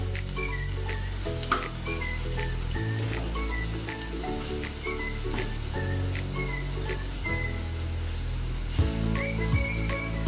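Malvani chicken sukka masala is stirred and mixed in a pan, giving a steady sizzle with repeated scraping strokes of a spoon at a regular rhythm, close and moderately loud, with no talking.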